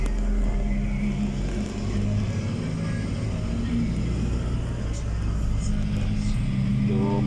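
An Isuzu truck drives around a large warehouse lot, its diesel engine a steady low rumble heard from inside the cab, with someone talking over it.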